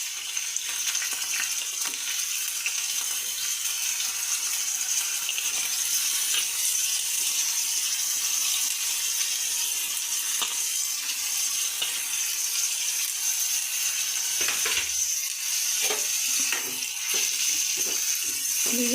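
Finely chopped onions sizzle and fry steadily in a pan for an egg curry, with a constant bright crackle and occasional stirring scrapes, no talking over it.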